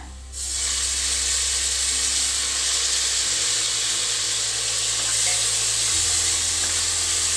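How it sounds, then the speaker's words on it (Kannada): Tomatoes frying in a hot pan with onions for a prawn coconut milk biryani give a steady, close, loud sizzle and hiss that runs unbroken throughout, with a low hum underneath. "tomato smooth ಅವಡ fry ಮನ್ಪುಗ"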